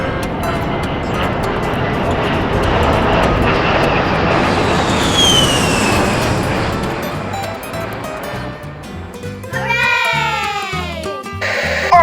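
A rushing, roaring jet-engine sound played for a Lego City toy space shuttle landing, swelling loud and steady before giving way to a whirring, chirping mechanical sound near the end.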